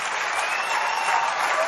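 Audience at a folk singing event applauds a choir with dense, loud, even clapping that fills the short moment without any voices.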